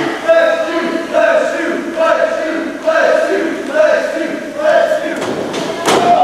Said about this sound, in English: stomp right to the back of Brett the Wolfman